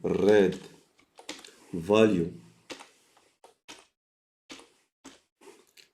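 Code being typed on a computer keyboard, a few sparse clicking keystrokes following someone speaking French, quiet and close.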